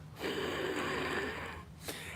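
A voice imitates a wheezy, congested throat with a long raspy breath, followed by a short sharp gasp.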